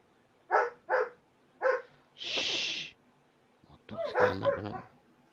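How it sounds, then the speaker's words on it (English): Several dogs bark in short sharp bursts, a quick run of three close barks, then a breathy rasp, then a tangle of overlapping yelps and barks, loud and near in a quiet room. "they're just barking. They're just mad, these dogs"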